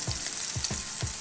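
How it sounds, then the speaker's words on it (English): A leg of lamb sizzles in hot preheated olive oil in a frying pan, a steady close hiss with a few sharper crackling pops, no voices. "you want to hear it sizzle"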